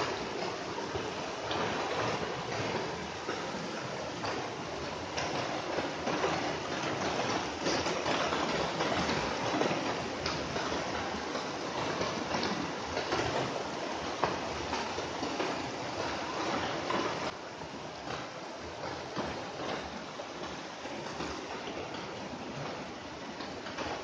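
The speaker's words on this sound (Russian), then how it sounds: "Ручей очень бурный" Turbulent mountain stream in the Carpathians, swollen and flooded, a steady, loud broadband rush of water roaring continuously and close by, with no talk over it.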